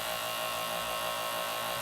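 Repeated abrasive swipes of a kitchen knife drawn through a Chef's Choice electric sharpener, a steady close grinding rasp with a continuous motor whine underneath and no talking.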